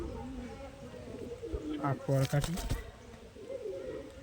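Giribaj pigeons cooing close by, a short run of low, throaty coos in the middle of the clip over steady outdoor background noise, with someone talking briefly.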